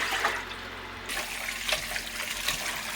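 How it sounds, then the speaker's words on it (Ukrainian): Christmas mushrooms are rinsed in water at a kitchen sink: running water splashes and trickles close by, a constant wash that shifts and gets brighter partway through, with no talking. "Промиваємо гриби в двох водах."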